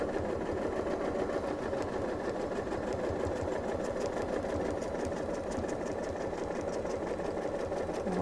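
A sewing machine runs continuously and evenly, quilting along the border of a quilt with straight and curvy lines, a steady close mechanical whir throughout with no pauses.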